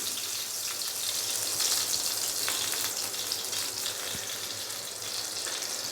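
Butter melts with ghee in a pan for an omelette, making a steady, moderately loud sizzle with fine spattering crackles and occasional faint taps, and no one speaking.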